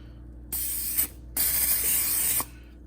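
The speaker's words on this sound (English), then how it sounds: "We're gonna just add a touch of nonstick spray." Nonstick cooking spray hisses onto air-fried sweet potato fries in two close bursts, a short one and then a longer one, with quiet gaps around them.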